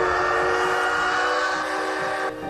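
A classic CT273 steam locomotive runs on rails with a dense, steady roar and sustained tonal ringing, close and loud, with no voices over it.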